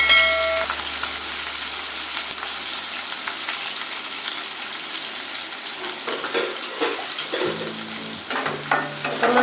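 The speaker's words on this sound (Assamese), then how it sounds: "ভাজি ল'ম পিঁয়াজখিনি অকণমান ৰঙচুৱা হোৱাকৈ।" Finely chopped onions and slit green chillies frying in oil for an Assamese bamboo shoot dish, a continuous sizzle with intermittent stirring and scraping of a spatula against the pan, no talking.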